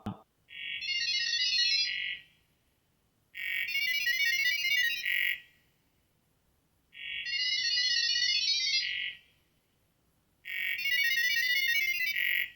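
Gibberlink-mode machine-to-machine beeping between AI agents: four loud bursts of rapid, warbling high-pitched data tones, each about two seconds long, separated by short silences.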